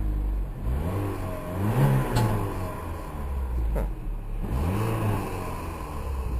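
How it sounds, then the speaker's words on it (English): The engine of a 2005 Chevrolet Cavalier revs up and settles back in several repeated swells, moderately close and alone with no talking. "And the engine."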